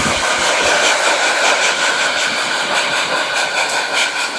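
A hair dryer blow-drying thick, frizzy hair: a loud, close, continuous whooshing roar with a steady hiss and slight fluctuations as the airflow shifts, no voices over it.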